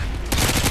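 Rapid automatic fire from a suppressed TAR-21 in a Modern Warfare 2 team deathmatch on Favela, a short, loud, close burst breaking in about a third of a second after a quiet start.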